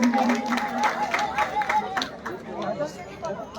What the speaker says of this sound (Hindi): एक बार जोरदार तालियां इनके लिए भी।